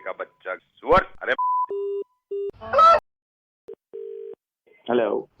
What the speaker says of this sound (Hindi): अरे नायर फोन काट